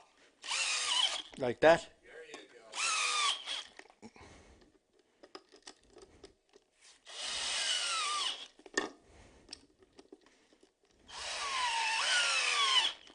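Power drill driving screws into wood, several loud whirring bursts of a second or two each with pauses between, close by, with brief talk and handling knocks in the gaps.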